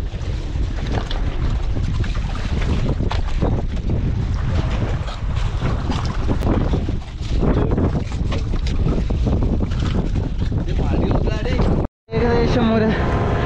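A strong wind sweeps over a fishing boat squid fishing on the Arabian Sea, a loud, unbroken roar of gusts and microphone buffeting mixed with hull and water noise, with a brief dropout near the end.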